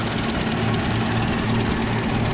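A 1970s Versatile swather built in Manitoba, powered by a six-cylinder Ford industrial gasoline engine, runs steadily nearby with a low, even throb and faint knocking rhythm, no voices over it.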